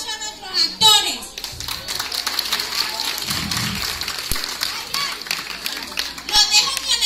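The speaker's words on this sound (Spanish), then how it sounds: "no me voy a ir de aquí hasta que le den un fuerte aplauso a nuestros actores" An audience, children among them, claps for actors after a theatre play at a community theatre festival, scattered uneven clapping mixed with kids' chatter and voices.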